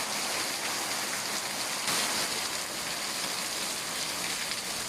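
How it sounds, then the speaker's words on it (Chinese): Heavy evening downpour in Hanzhong, a steady, dense rushing hiss of rain that stays loud and even throughout, with no voices. "你看这雨，哎呀，这下了暴雨降温了"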